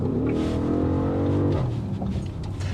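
A loud 2022 Audi SQ7 engine revs hard and steadily, with rough popping crackle from the exhaust as the revs rise and then drop.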